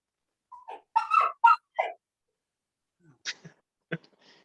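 A young puppy gives a few short whimpers and high yips near the microphone, a quick burst of four or five cries, then a pause and two or three fainter yelps.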